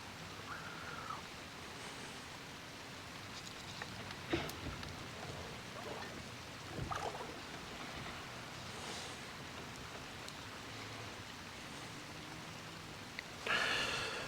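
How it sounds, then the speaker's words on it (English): Soft, steady drizzle patters outdoors as a continuous hiss, with occasional faint knocks and a brief louder rustle near the end. "and then it started just drizzling"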